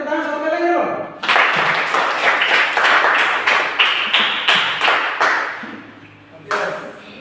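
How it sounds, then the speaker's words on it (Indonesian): A classroom of children clap their hands in a loud, fast burst of repeated claps that lasts several seconds, then dies away, with a teacher's voice speaking before and after. "Ayo kita tepuk tangan satu kali lagi dong."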